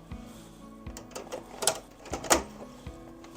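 Embroidery machine stitching a patch on felt over tearaway stabilizer, a fairly quiet mechanical whir with rhythmic clicks and a few sharper knocks, no voices.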